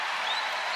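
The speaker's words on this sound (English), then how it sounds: "you hear the cheering for her" Steady crowd cheering and applause fills an arena at an Iowa versus Southeast Louisiana women's basketball game, a broad continuous roar held at even loudness throughout.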